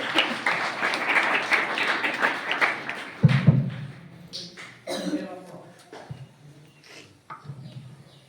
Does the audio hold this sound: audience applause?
yes